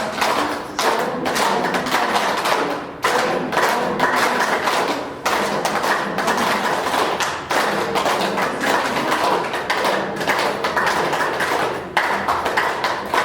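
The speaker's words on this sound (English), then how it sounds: "Because of the shortage of time, we do the simple tapping exercises" A yoga group does simple tapping exercises, producing a steady, dense run of rhythmic thumps and taps that carries on almost without pause, loud and close, with no talking.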